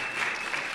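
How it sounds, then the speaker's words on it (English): A reception crowd claps for staff members being introduced, a short burst of steady, moderately loud applause. "Let's give them a big round of applause."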